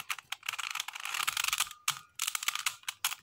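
A Rubik's cube being turned fast in attempts to corner cut, giving dense plastic clicking and rattling bursts with brief pauses, close and fairly loud.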